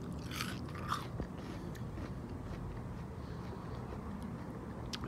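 Raw yacon root bitten and chewed, a few crisp crunches at the start followed by steady moist chewing against a constant low outdoor hum.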